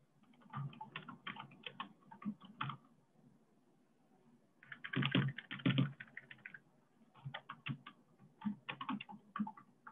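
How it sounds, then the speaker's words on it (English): Fast, close keyboard typing comes through an open microphone in quick bursts of clicks, separated by short pauses and faint near silence. "So whoever's typing, can they stop typing?"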